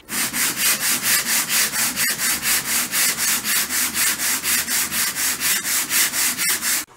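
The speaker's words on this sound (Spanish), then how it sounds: "Y si lo vamos a hacer a mano, lo podemos hacer con una lija del 60 en esta forma." Steady back-and-forth strokes of 60-grit sandpaper rubbed by hand across wood, a close, even rasping rhythm of about three strokes per second with a few brief sharp clicks, no voices.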